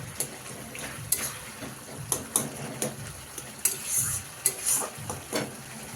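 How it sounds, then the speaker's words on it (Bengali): Vegetables stirred with a spatula in a pan on an Indian home stove, giving a series of scraping, clinking strokes over a soft sizzle, close and moderately loud, with no talking. "খুন্তির সাহায্যে আমি সব কিছু সবজিকে আমি একটু ঘাঁটা ঘাঁটা করে নিই"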